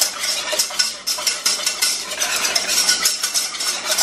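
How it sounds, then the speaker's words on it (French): Rapid, steady whisking in a figure-eight pattern against a bowl, a dense, continuous scratchy swishing with quick regular strokes, close and fairly loud, with no talking. "Donc il est en train de fouetter en 8."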